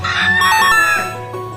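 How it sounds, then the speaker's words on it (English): A rooster crows once, a loud, close cock-a-doodle-doo with a rising then falling call, heard alone. "Rooster."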